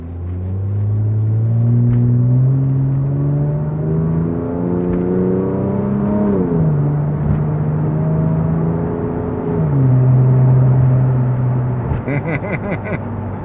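A 2002 Porsche 911 Turbo engine revs up loudly through several gear changes, the pitch climbing and dropping with each shift, heard from inside the car.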